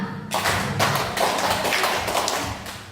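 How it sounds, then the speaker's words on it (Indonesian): Several people clap in unison, about five sharp, fairly loud slaps in quick succession, close by with no talking over them. "bertepuk tangan lima,"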